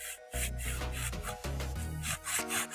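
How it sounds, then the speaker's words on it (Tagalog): Hand sanding with sandpaper to prep a surface before painting, with steady back-and-forth rasping strokes in a close, continuous rhythm. "Kaya lilihain natin yan."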